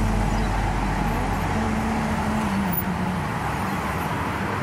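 A taxi rides through Beijing with a steady rumble of engine and road. Traffic noise hums evenly underneath, and no clear voice stands out.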